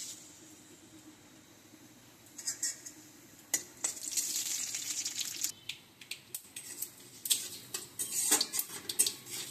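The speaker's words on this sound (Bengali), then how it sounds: "আর যে সরিষা, কালি জিরা, শুকনো মরিচ ফোড়নে দিয়ে দেব।" Mustard seeds, nigella seeds and dried chillies tempering in hot oil in a home kitchen, a steady high sizzle with sharp pops and spatters that build in the second half, mixed with occasional utensil clinks and no talk.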